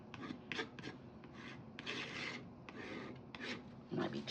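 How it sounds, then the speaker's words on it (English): Palette knife scraping black watercolor paint, a series of short, faint rasping strokes repeating unevenly at close range. "Let's come with a palette knife. Let's scrape back in a little bit."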